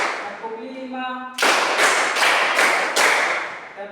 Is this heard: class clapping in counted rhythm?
yes